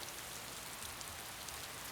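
Steady rain hiss with soft patter on a surface, even and continuous over two seconds, fairly quiet with no voices.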